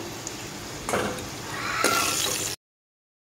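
Potatoes frying in hot oil for a vegetable biryani, a steady sizzle with a couple of louder crackling bursts before it cuts off abruptly.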